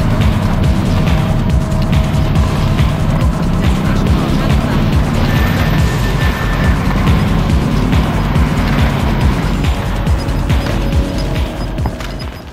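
Steady, loud engine drone with shifting pitch from a vehicle driven in Warzone battle royale gameplay, with bumps and clatter over it throughout and a voice briefly heard.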